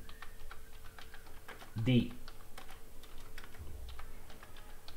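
Computer keyboard typing code: a quick, irregular patter of light key clicks, fairly close, running throughout with a brief louder bump, while a person talks over it.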